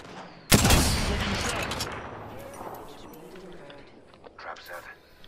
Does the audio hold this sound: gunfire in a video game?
yes